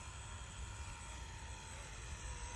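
A small Esky 300 v2 mini six-channel remote control helicopter hovers outdoors in a breeze, its rotor and motor giving a faint, steady whine and buzz with wind noise underneath.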